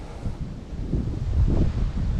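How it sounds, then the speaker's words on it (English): Wind blows across open wet fields beside a parked Jeep, a steady low rumbling buffet against the microphone that swells and eases over about two seconds, with no voices. "I think it's actually a bit windier here"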